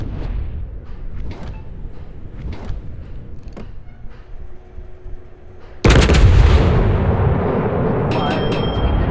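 Heavy warship main-battery guns fire armor-piercing shells in World of Warships, a sudden loud broadband blast that stays dense and roaring for several seconds after a stretch of quieter game sounds.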